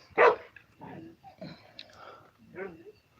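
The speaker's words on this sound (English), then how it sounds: "especially with the dogs barking" Dogs bark a few times at a distance in an outdoor setting by a fire, loudest at the start, with people talking softly over and between the barks.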